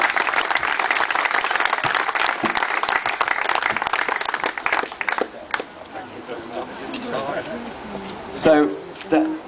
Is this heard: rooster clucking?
no